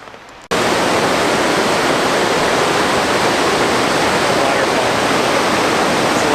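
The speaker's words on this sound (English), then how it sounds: "It's a lot of little waterfalls like this, all in the stream." Small waterfalls along a mountain stream near Pamelia Lake in the Mount Jefferson Wilderness make a steady, loud rushing roar that starts abruptly and continues alone.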